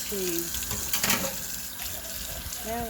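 Tap water runs steadily into a kitchen sink as it is rinsed out, a continuous close splashing hiss with a brief louder gush near the middle and faint tonal squeaks at the edges.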